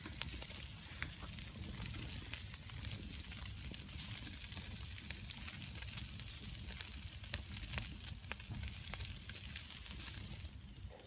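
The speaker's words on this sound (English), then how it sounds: "Got all my bacon cooked and just piled there." Bacon sizzling and crackling in a pan over a campfire in winter woodland, a steady soft hiss dotted with quick pops throughout.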